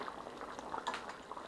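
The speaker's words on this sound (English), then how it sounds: "these things have been boiling now for about 20 minutes" Potatoes boiling in a pot on a stove make a steady, soft bubbling with small pops throughout, heard alone and fairly quiet.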